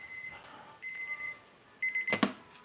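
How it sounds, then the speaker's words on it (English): A kitchen timer goes off while breakfast is cooked, sounding as a few faint, thin electronic beeps in short bursts against a quiet room. "timer went off"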